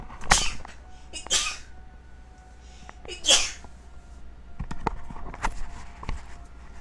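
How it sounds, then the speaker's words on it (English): Three sharp, loud human sneezes burst out in quick succession, followed by softer rustling and clicking sounds. "Oh god, I need to sneeze."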